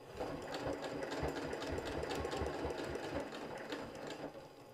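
A sewing machine runs slowly through thick fabric with an ordinary needle, its steady mechanical stitching rhythm close and continuous with no talking.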